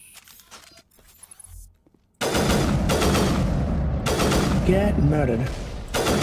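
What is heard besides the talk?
gunfire from a gun in a video game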